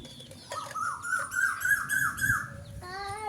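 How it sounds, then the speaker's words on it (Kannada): Several birds, cuckoos and parrots among them, calling in the evening: bright repeated chirps and tonal whistled notes rising and falling in quick succession, with a steady sung phrase near the end, close and fairly clear over faint background noise. "ಕೋಗಿಲೆಗಳು, ಗಿಳಿಗಳು ಎಲ್ಲ ಸುಮ್ಮನೆ ಇಷ್ಟೊತ್ತಲ್ಲಿ ಪಕ್ಷಿಗಳೆಲ್ಲ ಕೂಗ್ತಾ ಇರ್ತವೆ"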